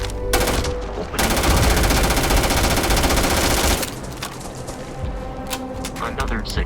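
Sustained rapid automatic gunfire during a fight in the Starfield video game, loud and dense for several seconds, preceded and followed by scattered shots, effects and a voice speaking.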